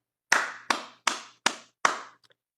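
Five sharp, deliberate hand claps at a slow, even pace, close and dry in a quiet room, each with a short decay, ending in a couple of faint taps.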